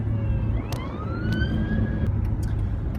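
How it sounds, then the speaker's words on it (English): A siren wails in rising and falling sweeps over steady road rumble, with a few sharp clicks cutting through; no one speaks. "Police car came by."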